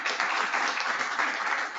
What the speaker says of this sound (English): Big round of applause for Jeff.